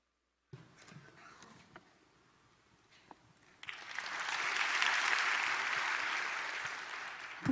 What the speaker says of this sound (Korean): 우리 다시 한번 우리 소연이에게 박수 한번 하겠어요